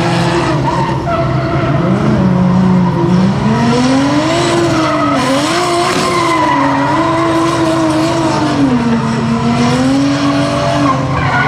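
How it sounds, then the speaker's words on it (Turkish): Cars drift at a large outdoor drift show with car and truck events, their tires squealing in long wavering howls over constant roaring engines throughout, loud and sustained with no one speaking. "Bu arada orada drift show gene yapılıyor."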